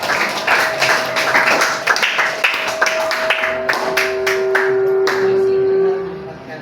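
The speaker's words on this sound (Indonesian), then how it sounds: "Teman-teman, tepuk tangan." Classroom group clapping, steady and fairly loud throughout, with a sustained tone running beneath it before the clapping thins out at the end.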